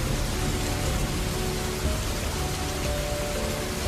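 Steady heavy rain pours on a surface across the whole stretch, a dense, even hiss with a faint low rumble of thunder beneath and no voices.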